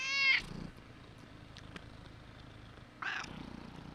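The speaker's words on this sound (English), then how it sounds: "listen to his purring." A cat purrs softly and close in a low continuous rumble, with brief high meows at the start and again near the end.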